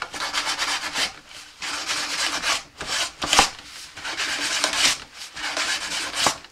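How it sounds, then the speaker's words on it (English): Rhythmic strokes of sandpaper scrubbing the front of a rocket nose cone, several bursts of rubbing separated by brief pauses, close and fairly loud with no talk. "sand the front of this nose cone"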